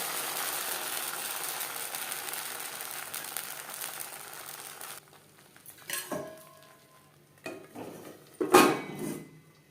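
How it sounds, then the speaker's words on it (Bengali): A plate set down to cover a pan of chitoi pitha batter on a low gas flame, a few close ceramic and metal clinks after a steady hiss. "একটা প্লেটের সাহায্যে ঢেকে দেব"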